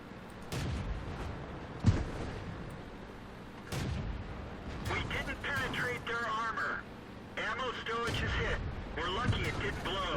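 A tank gun firing in the World of Tanks video game: a single sharp, loud report early on, with further booming impacts and game sounds following, under a voice talking.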